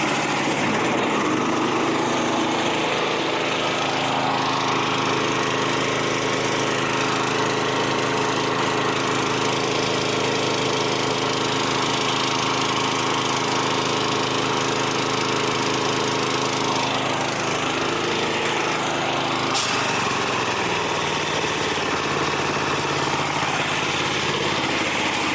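An air compressor on a service-truck build, fed through a 1/2-inch air hose, runs steadily and loudly for the whole stretch, building pressure with a constant engine-like drone and no talk.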